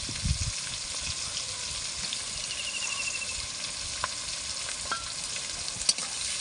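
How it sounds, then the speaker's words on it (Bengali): Sliced onions, green chillies and bay leaf frying in a kadai for chilli paneer, a steady bright sizzle with occasional soft stirring knocks, close and alone. "পেঁয়াজগুলো ভালো করে লাল লাল করে ভাজতে হবে"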